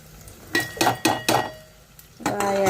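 Onions and green chillies frying in hot oil for a gongura chicken curry, stirred with a few distinct scraping and clinking strokes against the pan over a soft sizzle, close by with no talking.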